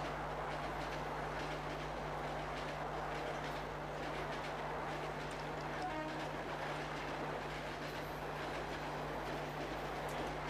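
A train passing through Kurla station, a steady low rumble and hum heard at a distance, faint and continuous, with a few light metallic clicks partway through.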